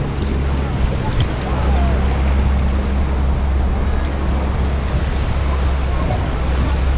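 Sea waves wash onto a sandy beach on Cagbalete Island in Mauban, Quezon, a continuous surf rumble with strong wind buffeting the microphone throughout.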